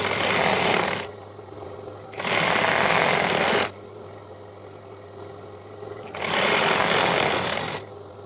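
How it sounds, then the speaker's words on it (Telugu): A sewing machine stitches the seam of a Punjabi dress top in three loud, steady whirring runs of about one to one and a half seconds each, separated by quieter pauses, heard up close. "ఇప్పుడు రెండోసారి దీన్ని ఈ విధంగా మలుచుకొని కుట్టు వేసుకోవాలి"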